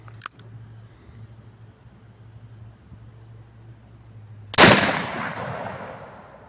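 A single sharp .44 Magnum gunshot loaded with Black Canyon black-powder substitute propellant cracks loudly after a quiet stretch, then rings off into a long decaying echo.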